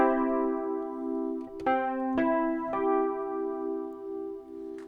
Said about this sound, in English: Okay, that's the major triad.